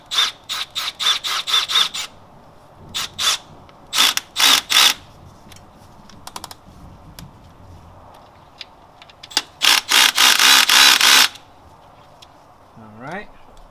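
A hand ratchet tightening valve cover bolts on an engine during a gasket and tune-up job, loud and close, clicking in several separate runs of rapid ratcheting with pauses between, and a brief voice at the very end.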